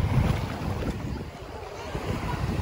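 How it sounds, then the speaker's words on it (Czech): Small sea waves wash at a Croatian beach, a steady rushing surf blended with gusty wind noise across the microphone, fairly loud and continuous with no talking. "Takový menší vlny."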